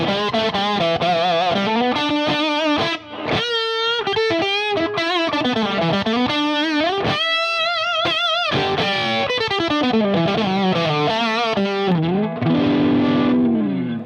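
A distorted electric guitar plays a busy melodic line through an MXR Raijin Drive overdrive pedal with tone turned all the way up, giving a bright, crisp tone and slight hiss at steady volume, with no voices.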